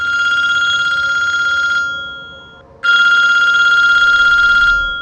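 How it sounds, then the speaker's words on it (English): A telephone rings loudly and close by, two long electronic trilling rings separated by a brief pause, with no voices over them. "30 minutes later, the phone rang again."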